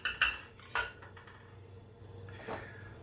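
A metal whisk clinks and scrapes against a pan as butter melts, giving a few sharp clatters at the start and softer scraping strokes afterward, fairly close and quiet with no voices.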